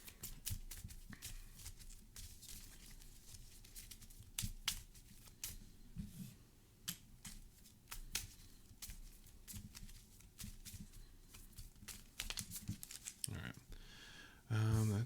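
Playing cards are shuffled repeatedly during a Marvel Champions card game, a run of sharp riffling and snapping bursts close to the mic, with a few quieter gaps in between.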